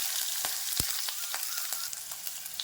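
Onions tossed into hot oil in a kadai after mustard seeds, giving a steady close sizzle and crackle with occasional sharper pops and a stirring scrape, with no voices.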